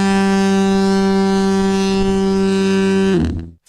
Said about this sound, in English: fog horn,